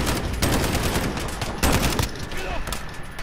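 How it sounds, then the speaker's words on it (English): Rapid gunfire in Call of Duty Warzone, a harsh, loud stream of close shots and bursts with a voice talking over the shooting. "Shooting at me."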